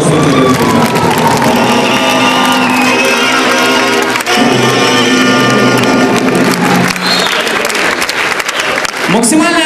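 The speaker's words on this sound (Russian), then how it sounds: "Аплодисменты зрительного зала." A hall crowd at a school league final claps and cheers loudly and continuously, with whoops and shouts over tonal music playing through the din.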